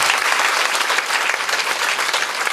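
A church congregation applauding, a dense, even wash of many hands clapping that holds steady and loud throughout, with no speech heard.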